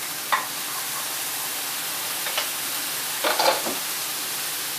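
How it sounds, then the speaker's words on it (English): Mushrooms sizzle in a sauté pan as a steady bright hiss, broken by a few brief clinks and stirring scrapes close by, with no one talking. "I'm going to put the mushrooms into the saute pan."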